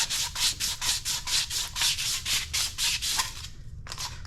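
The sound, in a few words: sanding a pipe to rough it up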